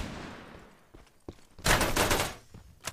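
Gunfire in the Farlight 84 video game: a loud, dense burst of rapid shots runs for nearly a second, a couple of softer isolated shots come before it, and one more sharp shot follows near the end.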